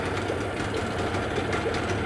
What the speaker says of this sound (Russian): Запустили моторчик.